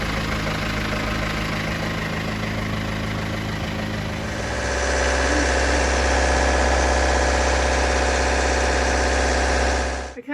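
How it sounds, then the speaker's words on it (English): Newly installed car engine running and idling, a steady low rumble that thickens and grows louder partway through as revs settle, holding a constant hum close by before cutting off at the end. "Okay, so our engine's going."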